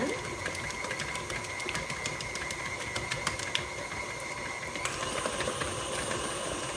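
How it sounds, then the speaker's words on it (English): An electric stand mixer beats eggless chocolate chip cookie dough, a continuous motor whir with rhythmic clicking that shifts pitch as the speed rises, steady and close with no voices. "we're just going to let the mixer do the work for us"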